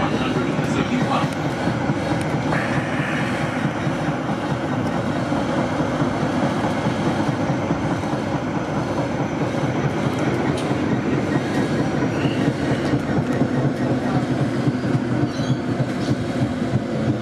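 An A Class tram runs on the St Kilda light rail line, a loud, steady rumble and rattle of wheels on track that lasts throughout, with faint voices beneath.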